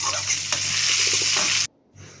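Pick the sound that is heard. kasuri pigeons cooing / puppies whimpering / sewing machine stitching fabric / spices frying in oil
spices frying in oil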